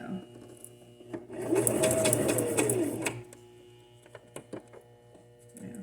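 A sewing machine stitches through pleated crepe paper ruffles, a dense mechanical whirring burst that runs for about two seconds, then stops, with light clicks and handling noises before and after.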